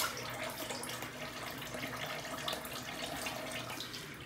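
Tap water running steadily while a razor is rinsed after a shave, a continuous close splashing hiss with no pauses.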